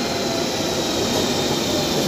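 A London Underground Central line train runs loud and steady, with a broad continuous rumble and hiss of rolling stock and no voices over it.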